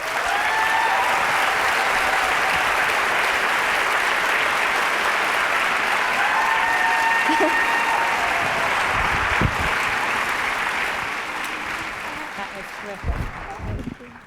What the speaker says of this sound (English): Big round of applause again for both wonderful student speakers.